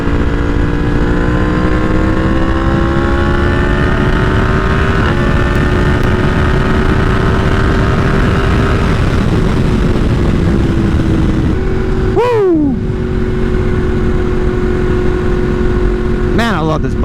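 Yamaha MT10 motorcycle engine droning steadily under load while riding, pitch climbing through gears with quick-shift drops around twelve and sixteen seconds, loud and close throughout.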